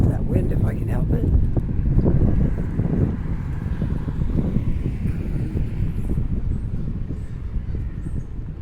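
Wind blows hard outdoors on a street in Halifax's South End, a loud continuous rumble that buffets the microphone and fades slightly toward the end.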